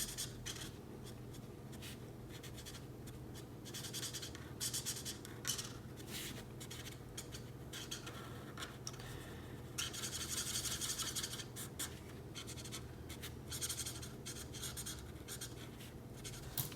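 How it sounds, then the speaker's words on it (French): A grey number 7 marker shading and colouring a drawing of a Fortnite emoji, a close, soft, continuous scratching and rubbing of the felt tip on paper in quick repeated strokes, growing busier midway. No talking. "Je viens ensuite avec du gris 7 mettre de l'ombre et colorier les languettes en dessous."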